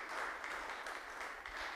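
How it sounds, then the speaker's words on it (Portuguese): Spontaneous applause from a congregation during a papal Mass as the Pope signs an encyclical at the tomb of Saint Francis, a steady, slightly distant wash of clapping. "Brota espontâneo, então, as palmas"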